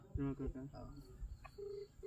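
A telephone is dialed to call a son, with a quick run of short electronic key tones close by, followed by fainter beeps under a soft insect-like hiss and brief talk.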